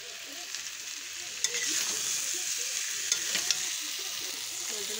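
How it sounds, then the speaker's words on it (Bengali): Fried potatoes tossed into spice masala in a pan sizzle steadily and close by, with a few sharp clinks of the spoon as they are stirred. "এবার আমি দিয়ে দেবো ভাজা আলু।"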